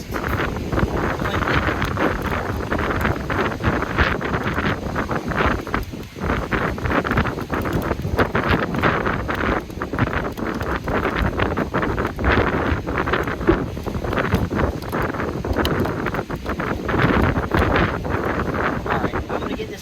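Gale-force wind roars across a campsite beside a Jeep and tent, a loud, constant broadband buffeting that pummels the microphone with gusty surges and brief dips for the whole stretch.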